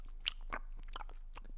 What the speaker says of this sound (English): I was chewing on like a chewy mint before, so I thought it'd be a fun way to open the show